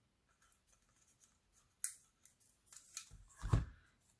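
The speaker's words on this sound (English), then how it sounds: "I'm going to go ahead and cut that." Scissors snip through paper for a handmade shaker card, a few soft crisp cuts followed by a louder closer snip near the end, quiet and with no talking.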